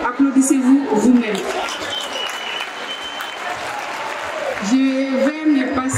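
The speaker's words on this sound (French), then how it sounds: "Applaudissez-vous vous-même." Children at a World Children's Day ceremony applaud themselves, a loud, dense crowd clapping that swells and holds for several seconds while a speaker's voice is heard before and after it.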